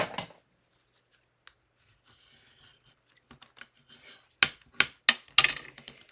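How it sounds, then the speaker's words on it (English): Paper card being folded along score lines and burnished, a quiet stretch of faint rubbing followed by a series of sharp crisp creasing strokes and rapid scraping swipes close by. "let's fold and burnish our score lines"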